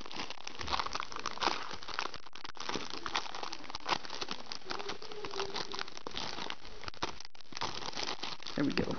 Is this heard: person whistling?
no